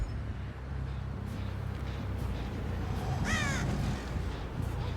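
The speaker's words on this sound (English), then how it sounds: "Crow there tells me that someone can't be there." A crow caws once in a short harsh burst over a steady low ambient drone in Dead by Daylight, fairly clear against the background.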